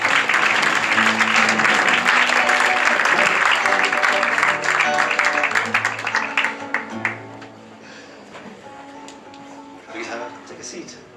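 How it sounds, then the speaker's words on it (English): A live mentalist show audience breaks into loud, dense applause that holds steady for several seconds, then thins into scattered claps as a voice and music come through. "A warm round of applause."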